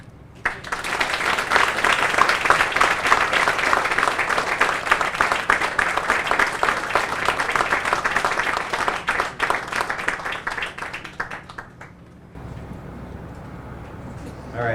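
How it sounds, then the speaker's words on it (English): Outdoor crowd applauds at a city hall groundbreaking ceremony, sustained loud clapping for about twelve seconds that then drops away to quieter ambient outdoor noise. "can we maybe one more round of applause for the legend, Mayor Dave Hollister?"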